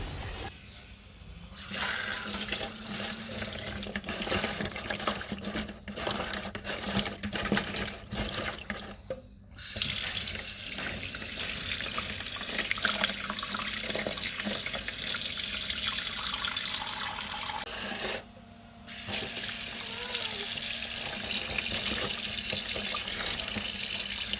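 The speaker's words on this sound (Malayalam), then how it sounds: "മീൻ നല്ലവണ്ണം ഉപ്പിട്ട് കഴുകി കൊടുക്കുക." Running tap water pours steadily into a sink while small tuna are washed with salt by hand, with splashing and brief pauses where the flow is interrupted.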